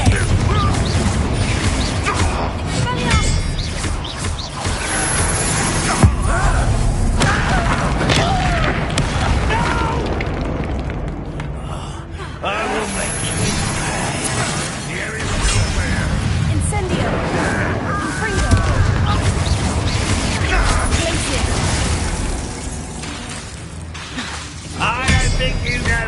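Repeated Confringo spell explosions in Hogwarts Legacy, a dense, continuous stretch of booms, crashes and shattering impacts layered over a steady low rumble of combat.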